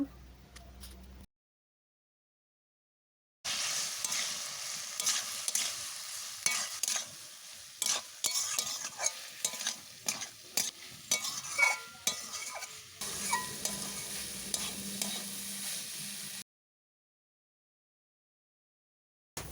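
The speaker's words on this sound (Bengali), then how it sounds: "এরপর দেব লঙ্কা গুঁড়ো আর সরষে বাটা দিয়ে ভালোভাবে মশলা আমি কষে নেব" Spices cooked down with chili powder and mustard paste in a pan for a potato and bitter gourd dish, loud close sizzling with repeated spatula scrapes and clinks in a stirring rhythm, set between quiet stretches at the start and end.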